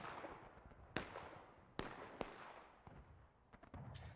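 Scattered gunshots in the War of Rights video game on the Rocky Slopes map: three or four sharp, distant-sounding reports spaced irregularly over a low battlefield rumble, quieter pops near the end, no speech.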